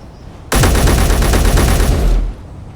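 Loud, close automatic gunfire from a shooter in the Space Engineers video game erupts in one sustained rapid burst of nearly two seconds, then cuts off to quiet background.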